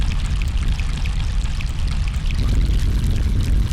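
Granular synth texture from the Tardigrain iPad app, a dense bubbly, watery wash of tiny grains like pouring or trickling water, steady and fairly loud throughout, no talking.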